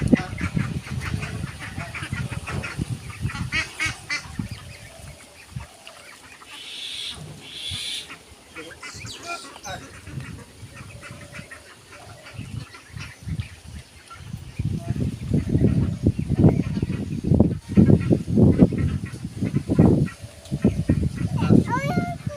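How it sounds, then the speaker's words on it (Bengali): A flock of Chinese geese honks and calls repeatedly at feeding time, the cries rising and falling, louder and denser near the end, with a person talking intermittently among them. "চীনা হাঁস, এই দেখেন, এই যে সব চীনা হাঁস,"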